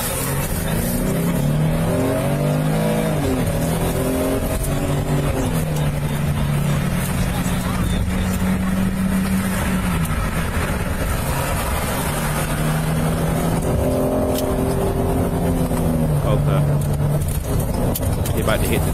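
Cars drive past on a road, heard as a loud, steady motor drone with rising and falling engine tones during a police stop, while people talk over it.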